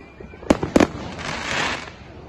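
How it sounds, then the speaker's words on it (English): Fireworks on bonfire night burst in two or three sharp, close bangs in quick succession, followed by a swelling, hissing crackle that fades out. "Nice firework that."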